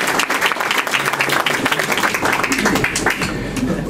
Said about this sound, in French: je pense qu'on peut lui faire une standing ovation, on est tous debout donc il suffit d'applaudir